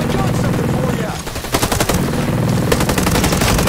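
Automatic gunfire in the video game Ghost Recon Breakpoint, loud rapid bursts of shots in a dense game mix, with a brief lull before renewed sustained firing.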